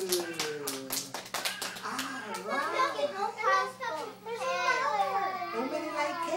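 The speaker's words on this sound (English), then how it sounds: "everybody clap their hand like this" Young children at a daycare clapping their hands together in a quick burst of claps at the start, followed by children and an adult talking and chattering.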